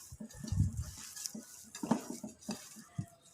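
Spiced potato samosa filling being mixed in a pan, with a few close scraping and clinking strokes of a spoon against metal, irregular and fairly quiet, no one talking.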